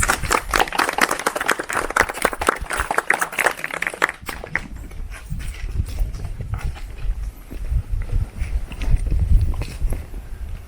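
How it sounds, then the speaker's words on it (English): Brisk clapping from an audience at a school drama club performance rings out for about four seconds, then gives way to quieter shuffling and low rumbling movement sounds. "So please welcome them with warm applause."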